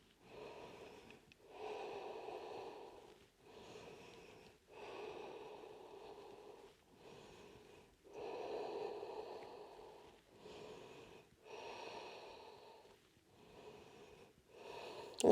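Deep, steady breathing held in a yoga pose, a series of long rhythmic breaths of roughly a second or two each with brief pauses between, close and fairly quiet with no talking.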